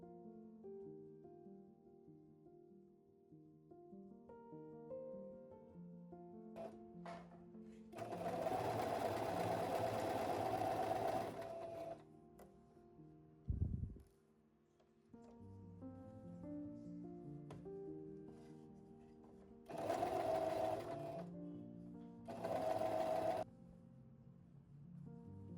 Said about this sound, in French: une fois ta parmenture bien épinglée, tu vas piquer au niveau de l'encolure à 1 cm